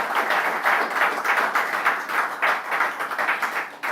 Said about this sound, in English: So please give Dr. Jim Ovia, CFR, a resounding round of applause.